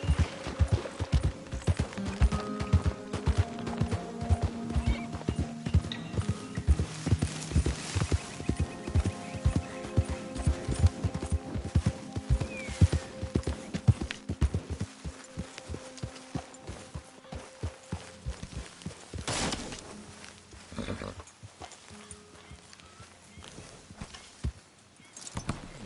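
Horse hooves in Red Dead 2 clip-clop in a steady, rhythmic gallop, close and loud for most of the stretch, with occasional snorts. The pace thins and quiets toward the end.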